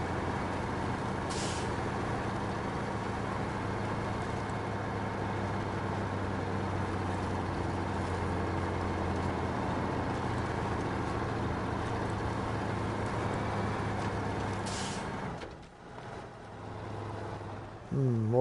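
Tega 6436 truck in the game SnowRunner, its engine droning steadily and loud with a low hum and rumble, then dropping and shifting near the end as it strains.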